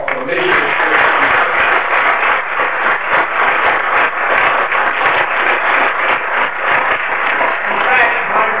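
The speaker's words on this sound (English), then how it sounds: "I think we ought to give him a round of applause." Audience at an awards banquet breaks into sustained applause, a dense, steady wash of clapping that fills the room for several seconds without pause.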